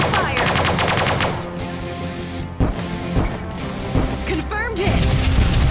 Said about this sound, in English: Commencing fire.